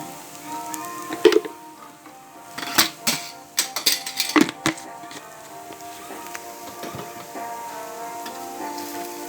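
A spoon stirs curry in a metal pan, landing in a cluster of sharp clanks and scrapes in the middle, then quieter occasional taps. A steady tonal hum runs underneath.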